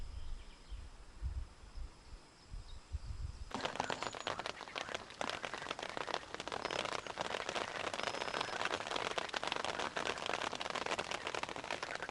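After a few quiet seconds, steady rain suddenly begins, a dense patter of drops on surfaces continuing close and even throughout.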